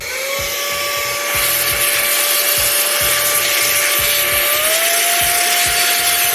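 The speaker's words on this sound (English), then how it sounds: "use our air duster here, blow our graphics card free of all this dust" Air duster blowing dust out of an old graphics card: a loud, steady compressed-air hiss runs without a break, with a thin whine over it and soft repeated clicks underneath.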